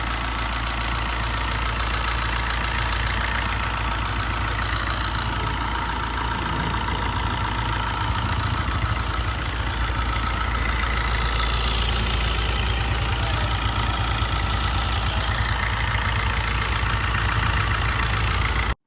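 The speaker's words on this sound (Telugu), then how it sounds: "ఒకసారి మీరు ఇంజన్ సౌండ్ అయితే వినండి ఇంజన్ సౌండ్ ఎలా ఉంది అనేసి" A 2016 Chevrolet Enjoy diesel car engine idles in a loud, even, unbroken rumble with a faint knocking texture, heard alone with no talking.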